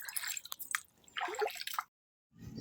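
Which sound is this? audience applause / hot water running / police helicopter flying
hot water running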